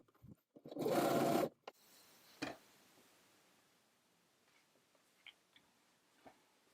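A sewing machine stitches a dress neckline from the outside along a basting line, one loud whirring run of about half a second, followed by a sharp click and faint scattered ticks in a quiet room.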